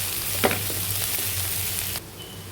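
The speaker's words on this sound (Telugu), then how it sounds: "ఇవన్నీ కొబ్బరి దొండకాయ వేగిపోయింది." Ivy gourd (tindora) with grated coconut and salt fries in a pan with a close, steady sizzle and a brief stirring clatter, then cuts off abruptly near the end.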